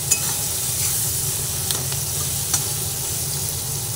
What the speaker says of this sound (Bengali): ক্যাপসিকাম দেওয়ার পরে সব শুদ্ধ একসঙ্গে আবার ভেজে নিচ্ছি।